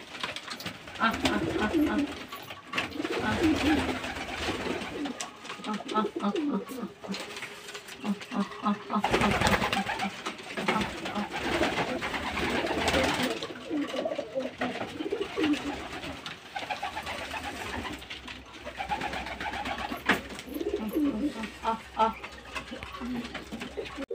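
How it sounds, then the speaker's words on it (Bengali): A flock of pigeons feeds together, soft overlapping coos and wing flutters rising and falling close by, with a voice speaking over parts of it. "তো দেখুন বন্ধুরা, পায়রাগুলো খুব সুন্দর একসাথেই খাচ্ছে, দল বেঁধে খাচ্ছে।"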